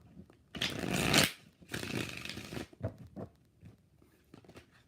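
Tarot cards shuffled in two loud, dense riffles of about a second each, followed by a few lighter taps and flicks of the deck, close up with no talking.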